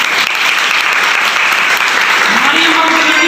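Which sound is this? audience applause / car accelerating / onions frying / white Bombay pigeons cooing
audience applause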